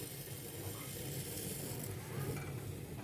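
Honey being stirred in a pot while it cooks, a soft steady sizzle and faint scraping of a spoon, quiet and close with no talking.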